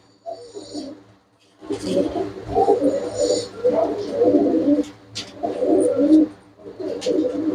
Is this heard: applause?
no